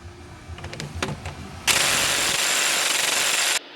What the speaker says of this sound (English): next bolt we're going to remove is the lower shock bolt.